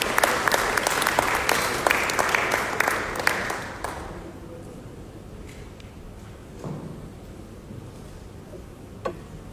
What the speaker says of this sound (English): So please welcome him with a huge round of applause.